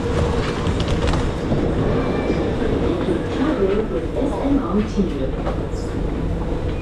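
A Singapore MRT train rumbles steadily with faint clattering wheels and a brief squeal, while people talk nearby inside the carriage.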